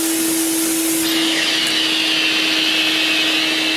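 A clogged vacuum cleaner with a small tear in its bag roars steadily up close with a strained, high whistling whine and a constant hum.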